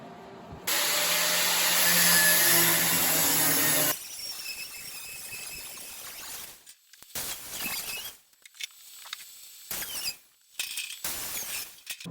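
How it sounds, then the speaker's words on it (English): An angle grinder zip-cuts the drip rail off a custom Jaguar fastback: a loud, steady metal grind for about three seconds, then shorter, uneven bursts of cutting with brief pauses between them. "we want to come up here with the grinder. We want to zip cut this drip rail off"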